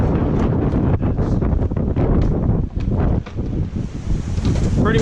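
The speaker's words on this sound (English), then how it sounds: "Pretty windy, bro. Pretty windy." Strong hurricane wind roars and buffets continuously, with heavy gusty rumble close to the microphone during a street drive in a BMW E36.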